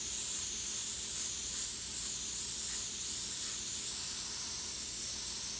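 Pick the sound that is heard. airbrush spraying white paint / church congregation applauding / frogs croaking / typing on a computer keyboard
airbrush spraying white paint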